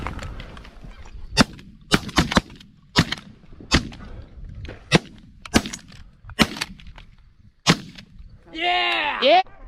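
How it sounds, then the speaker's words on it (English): Shotguns fire about ten sharp, loud reports in an irregular volley during a Canada goose hunt in a field, followed by a burst of honking geese near the end. "Shoot your side. Go!"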